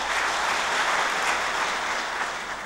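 Audience applause at the opening ceremony of an aviation security seminar, a dense, even wash of clapping that holds steady throughout and eases slightly near the end.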